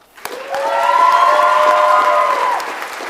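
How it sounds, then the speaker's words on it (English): An audience at an awards ceremony applauds the standing finalists, a steady wash of clapping with a sustained cheering voice rising above it before fading out. "please stand so we can give them a round of applause"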